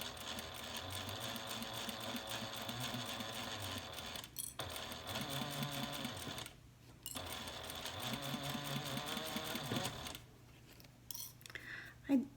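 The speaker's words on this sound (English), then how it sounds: "we're simply going to sew a 1/4 inch seam allowance along the top" A sewing machine stitches a quarter-inch seam with black thread along the top of a fabric slip pocket, running in steady bursts that pause briefly and then resume, close and fairly loud with no talking.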